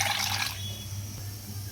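A little water splashes into moong dal rasam as it cooks, a short bright pour at the start that fades to quiet drips over a low kitchen hum.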